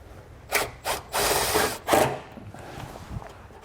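A self-tapping ground screw bites into metal on a 2020 Buick Envision, driven with an 8mm socket during a wiring diode install. Several close, rasping grinding bursts come in uneven spurts, then fade to quiet handling.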